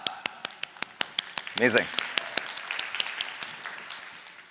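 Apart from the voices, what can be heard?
audience clapping and applause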